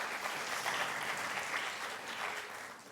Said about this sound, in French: Que l'on applaudit aussi pour l'accompagner.